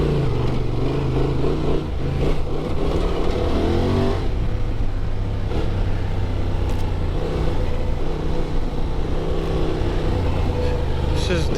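A 2024 Honda Transalp XL 750 motorcycle rides over rocks and sand in the desert, its engine droning steadily and close with a brief rising rev, wind and rough-terrain rumble underneath, and a rider talking over it.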